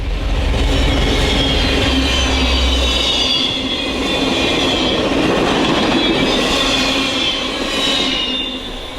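A Norfolk and Portsmouth Beltline GP38-2 diesel locomotive leads a short passenger train of excursion cars, passing close with a loud, steady rumble, wheel noise and faint squealing throughout.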